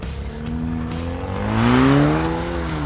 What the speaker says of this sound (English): Kevin took our Hornet out for an initial test drive. Oh, and did we mention he also modified the exhaust